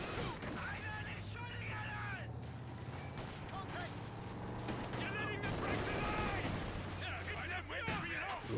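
Gunfire from focused fire in the Company of Heroes 2 strategy game crackles in repeated bursts and volleys, with low rumbling and mechanical effects beneath, while a commentator talks over the battle.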